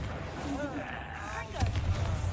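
Spell blasts from the Hogwarts Legacy game burst out as sharp booming explosions, one or two impacts over a short span, with a voice calling out alongside.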